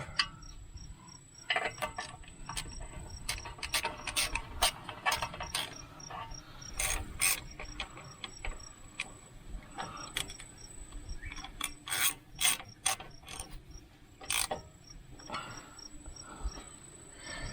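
A ratchet wrench clicks in rapid, uneven bursts while bolts are snugged down on a John Deere 410 backhoe engine, with a close, raspy ratcheting texture and a faint steady whine behind it.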